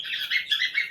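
Pigeons held in hand for sale give a quick series of sharp, high chirping calls in short close bursts with no voices over them.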